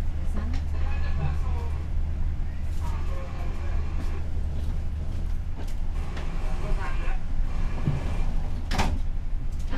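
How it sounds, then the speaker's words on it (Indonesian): A Kahuripan economy-class passenger train running just after departing Kediri, a steady low rumble and rattle inside the carriage with occasional clunks, under voices talking. "Ini kereta api Kauripan yang saya naiki sudah berangkat dari stasiun Kediri."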